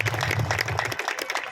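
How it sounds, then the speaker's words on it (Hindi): An audience at a ward event in Faridabad applauds to welcome a visiting minister, a short, dense burst of clapping lasting under two seconds. "आप सभी ताली बजाकर उनका स्वागत करिए।"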